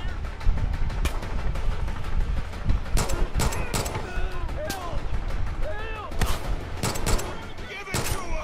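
Bursts of gunfire in Far Cry 5 crack out repeatedly, some in quick clusters, amid steady background noise and occasional voice-like tones in a game soundscape.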